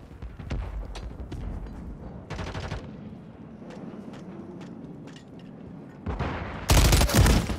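Gunfire in the Modern Warfare III multiplayer video game: scattered sharp shots and bursts through the clip, ending in a loud, dense volley of close automatic fire.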